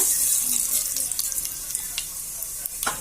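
Mustard seeds and cumin spluttering in heated oil while cooking bendakaya pulusu, a steady high sizzle with scattered sharp pops and crackles, close and continuous with no talking.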